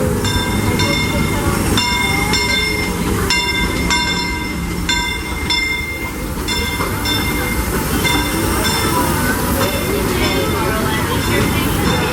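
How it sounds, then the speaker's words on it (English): The Disneyland Railroad train at the station, a steady loud rumble of rail cars and wheels with bright ringing tones above, continuous throughout, as a public-address voice announces the departure over it. "The Disneyland Limited now leaving for a complete trip around Walt Disney's Magic Kingdom"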